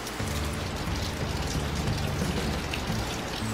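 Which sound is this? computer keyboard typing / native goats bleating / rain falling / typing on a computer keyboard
rain falling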